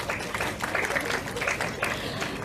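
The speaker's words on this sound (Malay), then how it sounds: "bagi tepukan gemuruh lah pada diri sendiri" An audience claps together in a crowded hall, a dense patter of hands lasting a couple of seconds at moderate distance.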